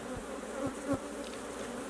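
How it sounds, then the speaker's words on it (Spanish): A dense, steady hum of many honeybees buzzing inside a hive close by, some fanning their wings, a continuous droning swarm with no voices. "algunas abejas baten sus alas para regular la temperatura de la colmena"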